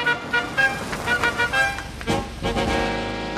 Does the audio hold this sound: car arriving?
yes